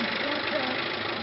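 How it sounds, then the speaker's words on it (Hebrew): A pickup truck's engine runs at a steady, rough idle, a constant close mechanical drone with a slight knocking texture and no clear start or change in pitch. "הוא מתניע את הטנדר,"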